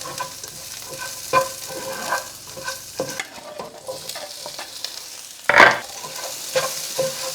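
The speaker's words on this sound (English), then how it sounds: "In goes the garlic." Garlic frying in a pan with occasional stirring scrapes, a soft steady sizzle under a few utensil knocks and one sharper clatter midway, close and alone without talk.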